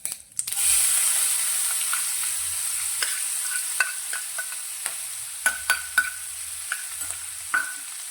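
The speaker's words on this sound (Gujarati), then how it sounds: "તો હવે આપણે જે ડુંગળી, લસણ, મરચાંને ક્રશ કરીને રાખ્યા છે તે અંદર લઈ લઈશું." Crushed onion, garlic and chili hit a hot pan with spices and sauté in a steady close sizzle, with intermittent scraping and clicking from a stirring spoon.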